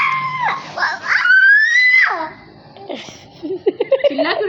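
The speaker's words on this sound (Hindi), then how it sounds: "चिल्ला क्यों रहा है पागल?" A young child screams and cries at close range in one long rising wail, then breaks into shorter sobbing cries, with an adult voice heard between the outbursts.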